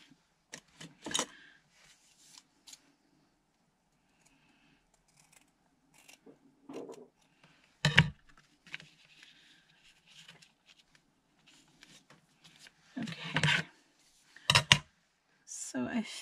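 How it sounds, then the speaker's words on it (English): Scissors trimming paper pieces for a handmade traveller's notebook, heard as a few scattered close snips and paper rustles among quiet pauses, with some soft talking. "So now I just need to trim these down to the right size."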